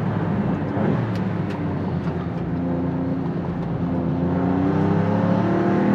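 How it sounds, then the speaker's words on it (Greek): An Alfa Romeo 33 Stradale's 3-litre biturbo V6, developed from the Giulia Quadrifoglio engine, revs hard on a race track, a loud, close, sustained snarl with rising and falling pitch and no voices. "Ο V6 3 λίτρος biturbo έχει τις ρίζες του στο μοτέρ που έχει και η Giulia Quadrifoglio, είναι η εξέλιξή του. Αλλά εδώ επιτέλους ακούγεται πραγματικά άγριος"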